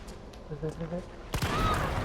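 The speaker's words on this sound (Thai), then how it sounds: "โดนระเบิด" In the Resident Evil 3 demo, a sudden loud blast bursts in after a second of muffled talk, followed by a sustained roaring rumble and a high ringing tone.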